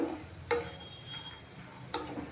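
Raisins frying in oil in a pan, a soft steady sizzle with a couple of faint clicks and stirring taps, quiet and close.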